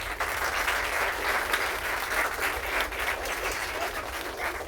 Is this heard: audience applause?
yes